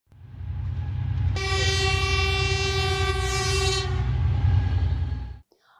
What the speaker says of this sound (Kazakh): Пойызбен саяхаттаймыз.